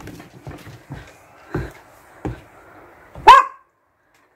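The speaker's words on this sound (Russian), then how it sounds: "Гав-гав." A dog barks several times near a snowy rural bathhouse, spaced woofs followed by one louder, sharper bark, with faint background sound between them.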